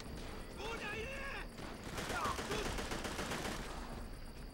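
Gunfire in Call of Duty: World at War on Mount Tapochau, a steady stream of distant rattling shots under battle noise, with a voice talking over it.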